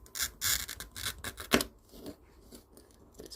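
A glass cutter scores fused glass in a series of short, close, rasping strokes, several bursts in quick succession before quieter faint scraping trails off.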